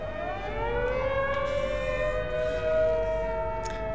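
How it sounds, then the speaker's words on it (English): Sirens wail outside, several rising and falling tones overlapping at a steady moderate level, heard from a distance through an indoor setting. "Man, these sirens."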